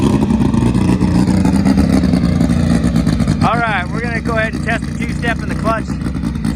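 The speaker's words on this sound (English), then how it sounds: "we're gonna go ahead and test the two-step in the clutch" Car engine held on a two-step launch limiter during a clutch test, a loud steady rev with rapid stuttering pulses, and a voice talks over it toward the end.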